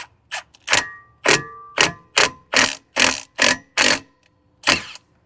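A hand ratchet tightens bolts to press a brake rotor off a 2003–2009 Lexus RX330/350, giving about ten loud, close bursts of rapid clicking separated by short pauses, with no voices.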